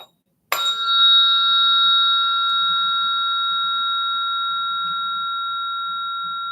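A single struck tone like a temple bell, sounded once and left to ring, a pure sustained hum that fades very slowly over several seconds in a quiet room.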